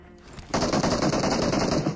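Rapid automatic gunfire in the mobile battle royale game PUBG Mobile, a dense sustained burst of shots that starts abruptly after a quiet half second and rattles on loudly.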